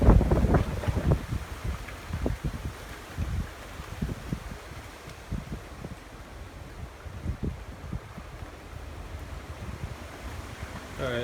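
Strong, gusty wind blows outdoors in Port Saint Lucie, Florida, during a severe thunderstorm warning. It roars and buffets the microphone in heavy surges, loudest at the start, then keeps up a constant blustery rush.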